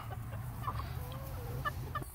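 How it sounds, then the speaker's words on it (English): Backyard chickens, nervous and staying inside their coop, give soft scattered clucks and short calls at close range over a low steady hum, with no talking. "all of the chickens are, it's in here kind of nervous about coming out"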